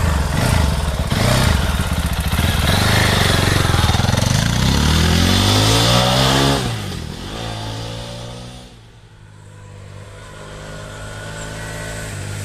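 Fantic Caballero Rally 500 motorcycle engine pulling hard on asphalt, a loud, steady throaty drone with rising and falling revs, easing off near the end.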